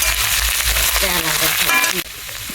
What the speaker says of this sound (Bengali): সেটা হলো বন্ধুরা বাঁধাকপি নিয়ে ভাজা